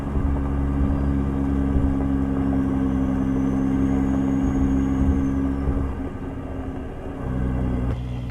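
A Peterbilt 351 truck engine in American Truck Simulator drones with a steady, deep rumble at constant revs, loud and continuous, easing briefly near the end.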